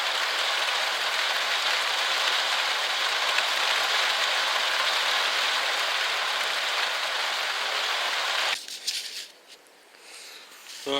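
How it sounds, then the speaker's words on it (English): Steady rain pattering on an allotment garden in June, a dense even hiss for most of the stretch before thinning out abruptly near the end. "Just for a change, it's having a little bit of a rain."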